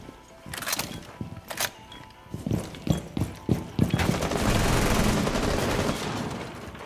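Gunfire aimed at a kitchen window in Rainbow Six Siege on the Coastline map: sharp shots, a run of loud bursts, then dense sustained fire up close.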